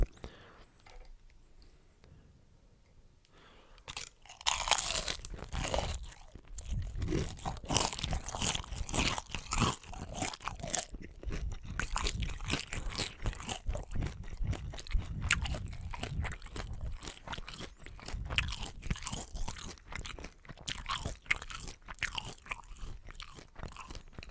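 Close, crunchy biting and chewing of homemade shrimp tempura, including the shrimp head, with dense repeated crisp crunches after a quiet start and faint whispering.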